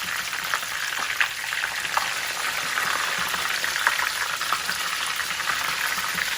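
Breaded chicken fries in a pan after being turned over, giving a continuous close crackle and spatter of hot oil at an even level with small popping bursts throughout.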